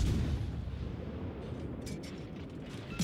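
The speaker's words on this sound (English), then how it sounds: "I start shooting at him as soon as he is in range" Naval guns of the destroyer Z-46 in a warship video game fire in heavy booming rumbles that roll on continuously, with a sharper blast near the end.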